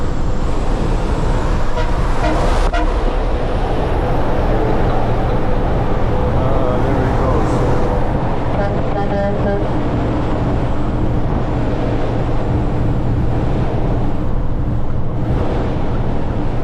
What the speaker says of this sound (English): It's got that big Caterpillar 3408 V8 engine in there